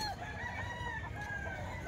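Gamecocks offered for sale crow nearby, one long drawn-out crow standing over a dense, steady backdrop of other fowl calling and clucking.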